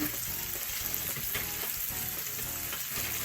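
Sliced onions sizzling and frying as they cook down in a pan for a cheese and onion tart, a continuous crackling hiss with occasional stirring sounds, close and alone without any talk.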